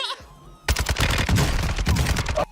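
Sniper rifle fire in Minecraft: a sudden, loud barrage of rapid sharp cracks follows a quiet lead-in and keeps going almost without a break until it cuts off near the end.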